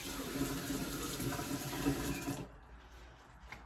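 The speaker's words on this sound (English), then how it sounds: "I'm just going to give it a bit of a rinse" Dyed cross stitch fabric rinsed under a running tap: a steady hiss of flowing water that cuts off partway through, leaving a quiet room.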